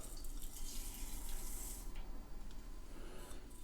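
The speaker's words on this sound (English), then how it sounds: "you sure can see the water boiling underneath" Water boiling beneath a double boiler used for melting wax and butter into a salve, a steady bubbling and hissing wash that continues throughout at moderate level with no talking.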